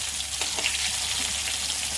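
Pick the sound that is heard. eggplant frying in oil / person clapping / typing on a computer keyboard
eggplant frying in oil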